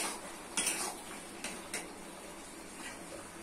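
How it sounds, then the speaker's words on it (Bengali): Teasel gourd stirred in a pan with lentils, potato and eggplant: a metal spoon scrapes and clinks against the pan in a few sharp strokes over a soft, steady sizzle. "দিয়ে দিচ্ছি কাঁকরোল, ভালো করে কষে নিতে হবে"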